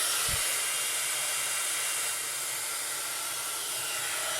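Steady, loud rushing blast of hot air from a heat embossing tool, continuous hiss throughout with a brief low thump near the start.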